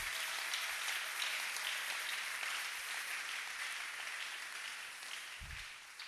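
A church congregation at a French-language sermon applauds for Jesus, a dense, steady wash of clapping that carries on for several seconds and fades slightly near the end.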